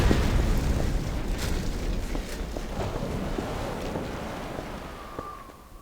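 In the video game Half-Life 2: Lost Coast, deep rumbling blasts and booms roll continuously, with scattered bursts and crackles over a low, heavy roar that slowly fades toward the end.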